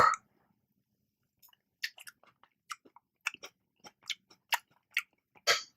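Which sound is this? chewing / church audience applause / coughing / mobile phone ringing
chewing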